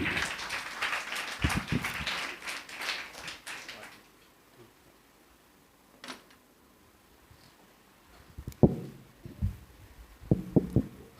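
A congregation at a family blessing worship service claps loudly together for a few seconds, then stops abruptly. Quieter moments and scattered bumps follow, with a few short bursts near the end.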